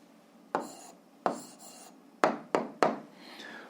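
A pen writes out the answer to a school physics problem by hand, heard as five short scratchy strokes spaced irregularly, faint and close, with no talking.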